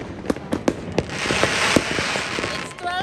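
New Year fireworks in the Netherlands bursting all around, a dense run of sharp pops and bangs over a continuous crackling wash, loud and near with more blasts farther off.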